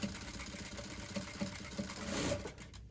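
A sewing machine stitching a dress, running steadily with a fast, even mechanical chatter and hum close by, then winding down as the stitching stops.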